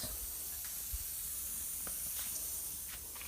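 Water sprays from a cut, years-old leaking pipe outdoors, shooting high into the air. It makes a steady, loud, broadband hiss that never lets up, with a few faint clicks scattered through it.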